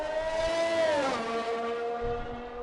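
A GP2 race car engine in a racing video game wails at high revs on a rainy Canadian circuit, then its pitch drops sharply as it passes or downshifts and settles into a steady lower drone, loud and close with no voices.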